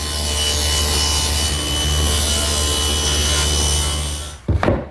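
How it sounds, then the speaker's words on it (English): A table saw tilted to a 10-degree bevel cuts through a wooden piece, a loud, steady whine lasting several seconds before the blade noise drops away with a brief clatter at the end. "I've set the table saw at 10 degrees, and I beveled one edge of this larger piece"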